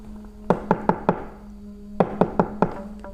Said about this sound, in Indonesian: Pak Sugi mendengar suara ketukan di pintu kamarnya